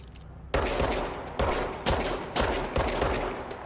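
Five loud gunshots ring out in the Control video game, a sharp initial blast then four more spaced about half a second apart, each with a rumbling decay, after a brief quiet start.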